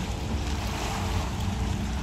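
Water waves along a shore make a continuous broadband wash, steady and fairly loud, with some wind noise on the microphone and no voices.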